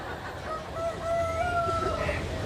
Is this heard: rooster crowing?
yes